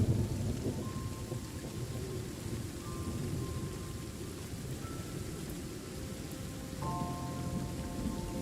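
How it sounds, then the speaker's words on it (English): Steady rain falling in the video game Train Sim World 3, a dense continuous hiss with soft patter, under faint intermittent electronic tones, close and even throughout. "there's some lovely rain. Drizzling."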